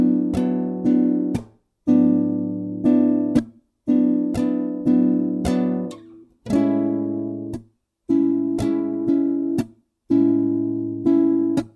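Slow, steady acoustic guitar strumming of the chords to a song: six evenly spaced phrases of ringing downstrokes with brief gaps between them, played close and clear with no talking.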